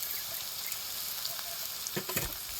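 Curry leaves and coriander fry in hot oil for poha, a soft, steady sizzle throughout with a few faint stirring scrapes near the end.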